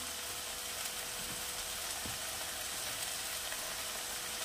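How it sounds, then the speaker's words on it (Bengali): Prawn curry masala with turmeric and spices sautéing in a pan, giving a steady, close, continuous sizzle and frying hiss with faint occasional stirring clicks, no voices. "এটা ভালো করে একটু কষিয়ে নেব।"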